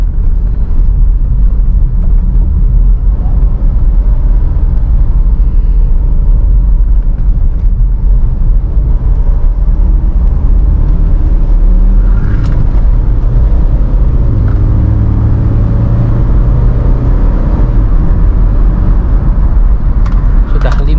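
A 2012 Mitsubishi Pajero Sport Dakar SUV drives along, heard from inside the cabin as a loud, continuous low engine and road rumble, with someone talking over it throughout.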